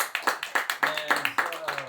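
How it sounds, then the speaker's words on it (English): An audience at a live comedy show claps in a steady, rhythmic beat of separate bursts, with a voice speaking over it. "Y'all round of applause."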